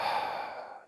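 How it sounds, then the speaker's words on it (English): One open-mouthed exhale during yoga breathing, a soft breathy sigh that starts full and trails away over under a second, close and alone with no talking. "Exhale, open mouth."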